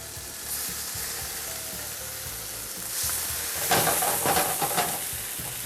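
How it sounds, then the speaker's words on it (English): Salmon fillets and asparagus sear in hot oil in a pan, a steady close sizzle that swells louder and crackles as the fish goes in. "our pan's nice and hot, so we're going to get the salmon in here now"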